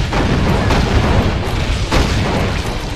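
A loud, close rocket explosion from a rocket jump in Doom 2 with a brutal mod, a dense rumbling boom that fills the whole moment with no clear pauses.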